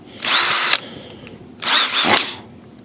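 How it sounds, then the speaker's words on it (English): A power drill whirs in two short bursts with a brief pause between, drilling cooling holes in a Hobbyking Sunbird 1.6m model glider, loud and close, with no talking. "I'm going to take a drill and I'm going to drill some holes."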